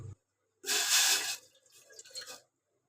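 Water pours into a tea pot on a gas stove in a short steady gush, then trickles off in a few splashy bursts, close and fairly loud with no talk.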